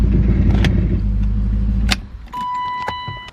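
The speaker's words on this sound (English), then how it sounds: "I'm going to go ahead and move the car to the other side real quick" A BMW E34 540i is moved inside a garage: a low, steady engine rumble with a couple of clicks cuts off near the end, leaving a tonal chime and faint knocks close by.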